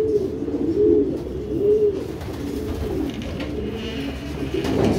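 Homer racing pigeons, derby birds, coo in soft repeated rolling calls close by, several low throaty phrases overlapping over a rustling background.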